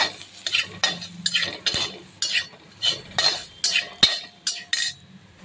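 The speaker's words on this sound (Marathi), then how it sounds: "मसाला चांगला परतवून घेऊ।" Spice masala of turmeric, chili powder, garam masala and coriander powder being sautéed in oil in a pan for spicy potato masala: a rhythmic series of metal spoon scrapes and clinks against the pan, close and distinct, with faint sizzling beneath.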